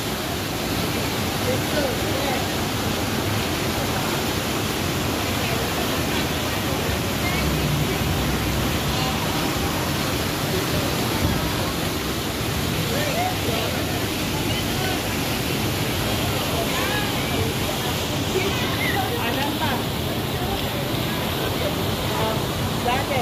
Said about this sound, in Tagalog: dito ito yung dancing fountain nila